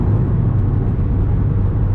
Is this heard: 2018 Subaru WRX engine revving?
yes